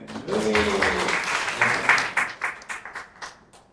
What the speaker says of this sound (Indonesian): Tepuk tangan Mbak Ciden.